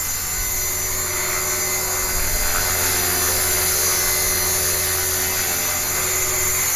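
A small HK 450 RC helicopter hovers close by, its rotor and motor giving a steady, loud, high-pitched whine and buzz with a constant drone and no talking.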